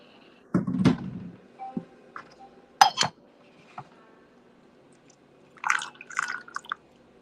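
Water poured over tea leaves for a quick rinse: a few brief splashing and dripping bursts with light clinks of teaware, close and quiet, separated by near-silence.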